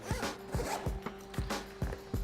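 A zipper on a ThinkTank Shapeshifter camera backpack is pulled open in a quick series of close, scratchy zip strokes, five or six short bursts in an uneven rhythm.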